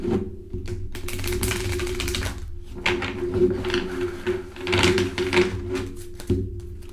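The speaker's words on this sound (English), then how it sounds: "I'm going to shuffle the cards right quick." Tarot cards being shuffled by hand at close range, giving rapid papery riffles and taps in uneven bursts over several seconds, with brief pauses between.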